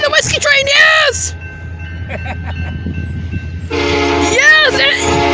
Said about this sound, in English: Oh, the whiskey train, yes.